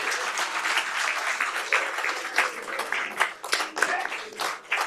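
Applause fills a city council meeting chamber after a group photo, a steady patter of many hands clapping with a few sharper claps standing out, moderately loud and continuous throughout.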